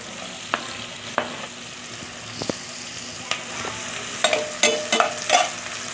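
Ginger being stirred in a cooking pot for chicken tinola with coconut milk, giving a soft steady sizzle under sharp intermittent scrapes and clinks of the utensil, clustering toward the end.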